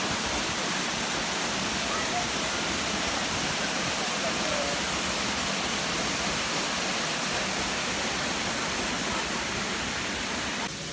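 Waterfall at Sungai Pisang roars as a dense, unbroken rush of falling water, loud and close for the whole stretch, with a voice faintly talking beneath the constant wash.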